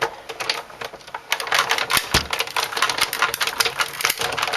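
An electronic cutting machine slicing a clear plastic window sheet, giving a dense, continuous run of close, sharp crackling and ticking, fairly loud and without speech.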